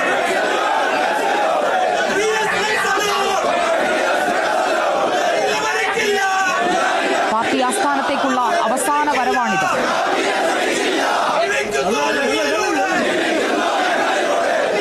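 A large crowd surrounding an ambulance chants and shouts political slogans continuously and loudly, while a reporter speaks over the noise.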